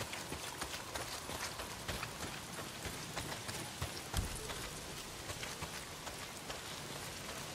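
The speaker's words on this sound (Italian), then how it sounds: "se continua a piovere così" Steady rain falling in the video game Days Gone, a dense even patter with scattered drips, fairly faint and continuous.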